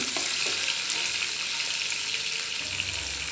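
Chopped onions fry in hot oil with mustard seeds, cumin, chana dal and curry leaves for a capsicum curry, giving a loud, steady close-up sizzle with faint scraping throughout.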